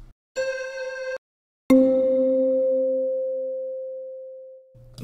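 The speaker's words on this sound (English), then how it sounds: "we're gonna do like a simple little bell pattern" Two synthesized bell tones from Logic Pro X ring out: a short bright chime that cuts off, then a second struck bell that sustains and slowly fades away.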